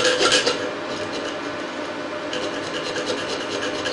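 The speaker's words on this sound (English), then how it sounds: "Take the edge of your saw blade and almost use it like a file." The edge of a jeweler's saw blade is rubbed like a file against a metal edge, producing a close, steady raspy scraping with short repeated strokes and no talking.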